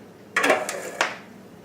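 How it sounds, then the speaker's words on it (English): A fork knocking against a bowl while mixing dried pineapple, raisins and seasonings for a raw vegan carrot cake: two or three close, bright clinks and scrapes, then quiet. "I'm using a fork to separate the chunks of the dried pineapple and the raisins, as well as mix in the seasonings."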